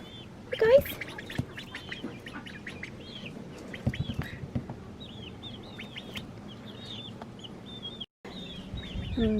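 Ducks and chickens in a small pen cage, including a rooster, with repeated quacks and clucks throughout, plus occasional higher bird calls; a person talks intermittently nearby.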